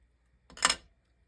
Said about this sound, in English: I'm going to get my scissors and trim that right in here.